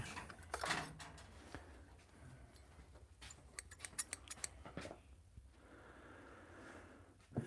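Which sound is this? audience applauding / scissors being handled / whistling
scissors being handled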